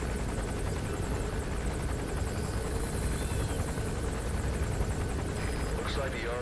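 An arms dealer's helicopter patrols overhead in the video game Metal Gear Solid V, its dense rotor chop and turbine whine a constant loud roar throughout, with a voice talking faintly beneath.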